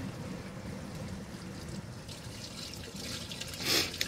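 Water rushing steadily through an RV black tank during a flush at a dump station, a continuous broadband wash with a brief louder gurgling surge near the end, heard alone without talking.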